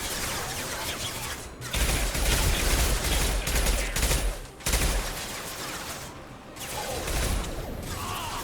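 Heavy gunfire erupts in the video game Mass Effect 2, a dense, loud fusillade of rapid shots and impacts that rolls on in bursts with brief lulls.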